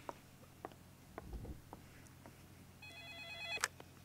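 A telephone rings in the Law and Order video game, its electronic tone repeating in a short burst near the end over low background hum and faint taps.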